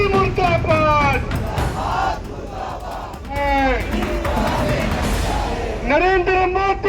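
Congress protesters outside the ED headquarters chant slogans in loud, rhythmic unison, with bursts of shouted call-and-response separated by crowd murmur and brief pauses.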